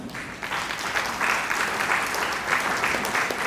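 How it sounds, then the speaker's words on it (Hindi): An audience at a youth camp gathering applauds in a steady burst of clapping that swells and continues for a few seconds, moderately loud and fairly close. "इनके लिए तो जोरदार ताली मारो।"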